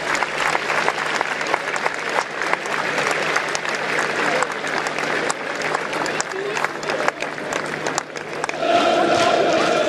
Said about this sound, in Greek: Το χειροκρότημα από τους θεατές.